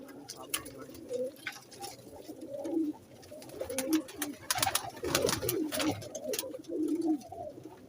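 Pigeons in a breeder's loft coo and flutter repeatedly, a steady mix of low throaty calls and wing movement at close range, with faint human speech in the background.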